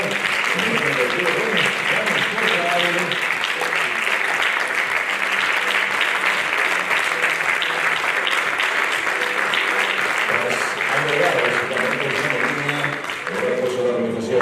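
Sustained audience applause fills a mountaineering federation awards gala in Galicia, dense and steady throughout with a faint murmur of voices underneath.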